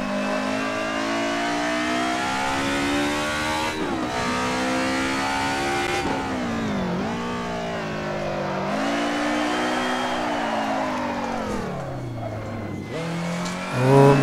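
Race car engine in Assetto Corsa, a DTM Group A car at the Nürburgring, revving hard through gear changes with rising and falling pitch, downshifts and a brief tire squeal near the end, loud and continuous without talk.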